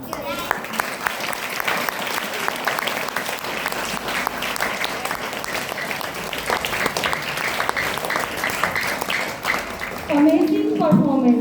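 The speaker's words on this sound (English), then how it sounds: "Give a huge round of applause for all of them." An audience of students and staff at a school inter-house English story narration competition claps steadily after a performance, a dense, even wash of applause that grows louder near the end as a voice begins speaking over it.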